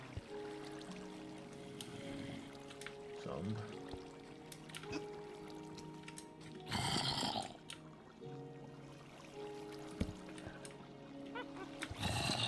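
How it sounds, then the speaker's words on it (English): Water trickles and pours through an underground cave in Minecraft, a steady wash under scattered game sounds, a brief louder splash midway and a few spoken words. "So much water down here."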